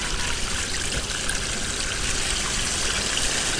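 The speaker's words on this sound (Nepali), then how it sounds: "ओइ पानी कति ठुलो आउने रहेछ पानी त" Water gushing and flowing in a loud, continuous, close rush that stays steady and unbroken throughout, with no voices.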